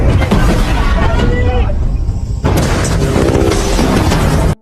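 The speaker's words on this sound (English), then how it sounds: "they are awakened by missile attacks, killing their comrades" Missile attack explosions in a night war-film scene, heavy booming blasts and crashing rumble filling the whole stretch, with a brief dip midway before another loud burst and continued roar, mixed with faint shouting voices.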